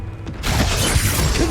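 A Glacius ice spell in Hogwarts Legacy on Xbox Series X bursts in after a brief quieter moment, a loud crackling, shattering rush that holds steady for over a second.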